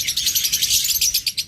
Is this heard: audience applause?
no